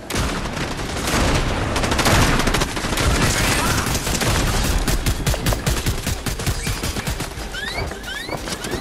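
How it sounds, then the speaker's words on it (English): Rapid gunfire from the Fortnite video game, with dense, continuous bursts of automatic shots that stay loud and close throughout, plus a few bright squealing sweeps near the end. "stop shooting at me"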